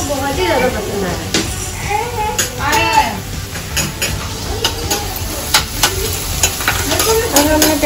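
Onions frying in a pan, a loud crackling sizzle broken by stirring scrapes and clinks, with voices talking over it throughout.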